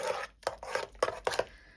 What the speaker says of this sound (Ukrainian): все це потихеньку перемішуємо